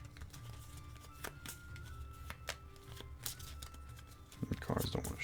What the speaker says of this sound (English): The cards don't want to shuffle.